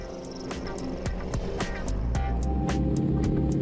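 An Apollo 3500 GT sports car with a 3.5-litre American V8 drones with a steady, rich engine tone that grows louder over a few seconds, with scattered sharp clicks along the way.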